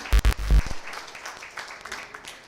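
Audience applause at a private sector gender mainstreaming policy launch, a burst of scattered clapping following brief talk, fading and thinning out over a couple of seconds.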